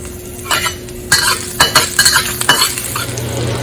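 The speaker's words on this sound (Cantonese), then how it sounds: "放啲乾葱起鑊啦。" Shallots stir-fried in a hot wok, a close continuous sizzle broken by several sharp metallic scrapes and clanks of the spatula against the pan, with no talking.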